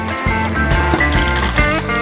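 Roast chicken sauce pours steadily into a gravy pan, a continuous liquid trickle and splash with faint clinks, close and alone.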